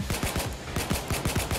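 Rapid automatic gunfire in the heist game Payday 2, a fast even burst of about a dozen sharp shots with a short gap midway.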